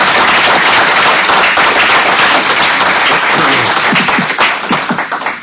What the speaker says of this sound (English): So I really want, we give Professor Tobin a round of applause.